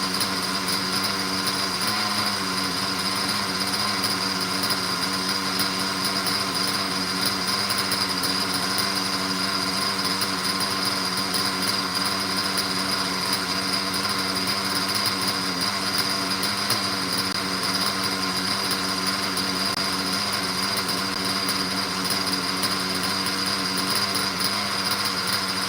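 An old Pico RC model engine running steadily at a high-pitched, buzzing idle, loud and close for a long stretch with no change in pace and no talking.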